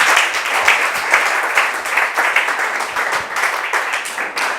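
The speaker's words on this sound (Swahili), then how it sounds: "Jipigie makofi kwa kufika." A church congregation applauds itself: dense, steady clapping from many hands fills the room for the whole stretch, loud and continuous without pauses or voices.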